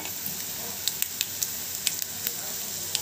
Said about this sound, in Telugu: ఇవి మంచి కలర్ వచ్చే వరకు వేగనివ్వండి.